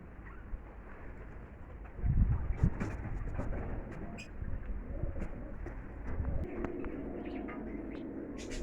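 Racing pigeons cooing at a home loft after a training toss on a damp day, soft low coos and scattered chirps over steady outdoor background noise, with no talking.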